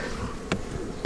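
Honeybees drone steadily around hive frames during a post-winter inspection, a low, continuous buzz with two brief sharp knocks or clicks from handling the frames.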